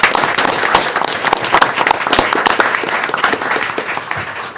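A city commission meeting audience applauds the leisure services staff, with loud, close, crisp individual claps forming a continuous burst that tapers slightly toward the end.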